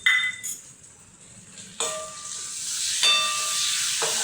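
Ground green chili hits a hot pan with ginger-garlic paste for a Sambhajinagar-style brinjal bharit, a sharp hiss that settles into steady sizzling, with a few metallic clinks of a utensil.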